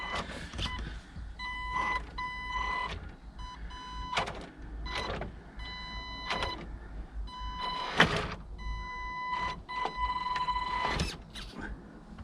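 Absima CR3.4 Sherpa RC crawler with unlocked diffs whining through repeated short electric motor bursts, each start and stop clearly audible, close by with no voices.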